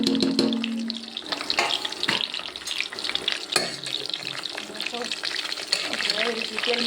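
Spices are stirred and fried in hot oil with stuffed brinjals, Kathiyawadi style, producing a busy crackling sizzle with irregular scraping and clinking of the spoon against the pan, close and fairly loud.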